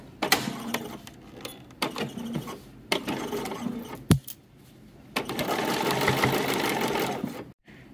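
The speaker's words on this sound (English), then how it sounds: "I can do a half and go all the way around top stitching, and the hem will be in" A sewing machine topstitches a hem on a Folkwear pinafore. It runs in short, stop-start bursts of rapid needle clatter, then settles into a longer steady whir, close and loud, with no voices.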